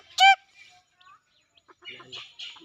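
A small bird gives a single sharp, loud chirp near at hand, followed by fainter scattered chirps and soft rustling in an otherwise quiet outdoor setting.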